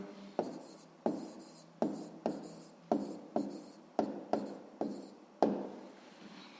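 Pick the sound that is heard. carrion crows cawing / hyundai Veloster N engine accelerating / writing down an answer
writing down an answer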